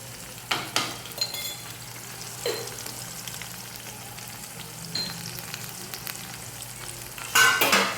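Chopped onions being fried and stirred in a pan, giving a soft steady sizzle interrupted by several scraping stirs, close up and without talk.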